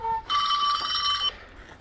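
A phone rings in a forest home, a single bright electronic ringtone burst lasting about a second, close and clear after a brief tone.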